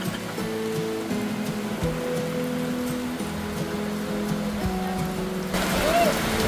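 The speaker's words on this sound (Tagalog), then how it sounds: "So, ayun po, malakas ang ulan." Heavy rain pours steadily on a rural home where a tarpaulin covers an e-bike and water is being collected, a dense continuous wash with low hum and a brief chirp near the end.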